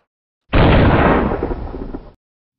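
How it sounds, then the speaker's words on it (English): Three black-powder rice hull firecrackers, e-matched together, go off at once in a single loud, sharp blast that rings out and decays over about a second and a half, with no voices. "We got all three of them e-matched together, so they're going to go off simultaneously. Should make a very nice bang."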